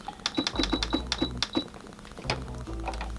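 Sewing machine stitching a cloth pad, a quick run of evenly spaced mechanical clicks followed by a few slower thunks as it backstitches, close and moderately loud.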